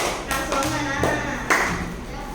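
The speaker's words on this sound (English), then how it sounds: "Good. Give him a clap. Loud clap." At a summer camp prize ceremony, a group claps for a boy's winning painting. Scattered rhythmic clapping is heard at moderate loudness, with a few sharper accents and faint voices in the background.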